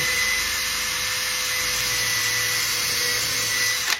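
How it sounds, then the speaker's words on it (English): A power drill bores a pilot hole in wood with a small bit, running continuously with a steady high whine and grinding hum, then cutting off abruptly at the end. "just drill an hole there"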